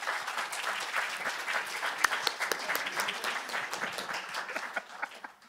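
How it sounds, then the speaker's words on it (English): Audience at a Women in Tech male allies panel event applauding the panelists, a dense sustained round of clapping from a crowd in a hall that tapers off toward the end. "Let's give our panelists a round of applause"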